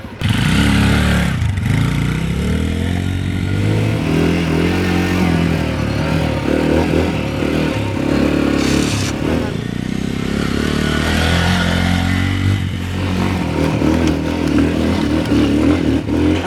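SYM GY 150 motorcycle ridden off-road on a trail, its engine droning loud and close throughout with shifting pitch, rattles and clatter over rough ground.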